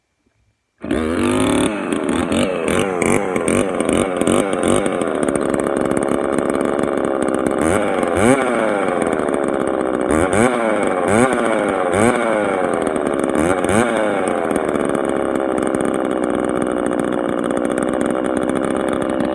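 A Mac 3200 chainsaw with a modified muffler drilled with extra holes fires up and runs loudly and close for a long stretch, its raspy, blatting exhaust rising and falling as the throttle is repeatedly revved.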